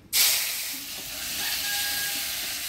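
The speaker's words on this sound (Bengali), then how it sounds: "ফোড়নে দিয়ে দিব গোটা জিরা, শুকনো লঙ্কা, তেজপাতা। দিয়ে দিব পেঁয়াজ কুচি," Whole cumin, dried red chilli, bay leaf and chopped onion hitting hot oil in a village kitchen, a sudden loud burst of sizzling that settles into a steady hiss.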